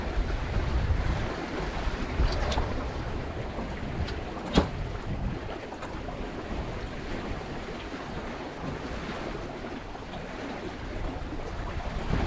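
A sailboat running downwind wing on wing with the waves: steady rushing water and wind roar, broadband and continuous, with a few brief splashes or knocks.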